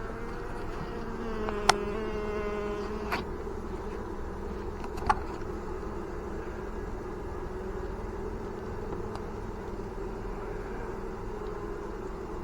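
A steady, dense drone of many honey bees buzzing around a hive as a mated queen is introduced, continuous and close, with a few brief clicks and knocks scattered through it.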